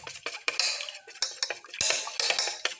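A utensil beats egg yolks and whites together in a bowl for a black pepper curry leaf omelette, making rapid, continuous clinking and scraping against the bowl, close and alone with no talking.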